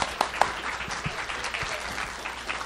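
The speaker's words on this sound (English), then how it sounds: "So a round of applause, please," An audience claps in steady, dense applause for a lecturer presenting on health management systems, a broad wash of hand claps with a few sharper close claps near the start, continuing at an even level throughout.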